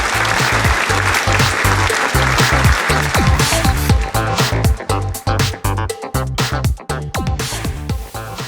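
Audience applause welcoming performers to the stage at a college cultural program, loud and dense clapping over pounding music with a heavy beat, thinning toward the end.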